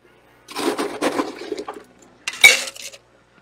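Crushed ice is scooped from a container for a tiki cocktail, two bursts of crunching, clinking ice followed by a sharper rattling scoop, close and isolated with silence between.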